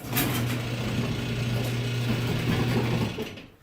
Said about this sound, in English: I'm going to open up the garage door a little bit.